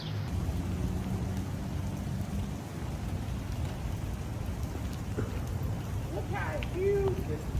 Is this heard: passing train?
no